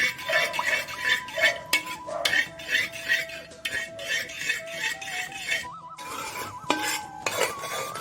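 A pan of melted jaggery syrup for sharkara varatty is stirred with a metal utensil, giving rapid repeated scraping and clinking strokes against the pan over a faint sizzle, close and continuous with brief pauses.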